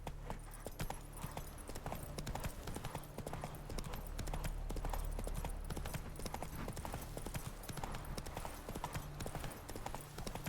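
Horse hooves clip-clopping at a steady gallop in The Witcher 3 video game, a continuous rhythmic beat of hoofbeats over a low game soundscape, with a faint whinny-like touch and no clear talk.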